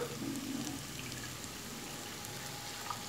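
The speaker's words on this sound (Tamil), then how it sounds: "அப்போ இதே கப்புக்கு 3 கப்பு தண்ணி ஊற்றணும். இப்போ ஊற்றலாம்." Water pours briefly into a vessel near the start, a soft trickling splash that fades into quiet room noise.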